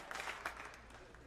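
Applause from an audience at a benefit dinner, a short burst of clapping that swells and then thins out, fairly quiet, with voices mixed in.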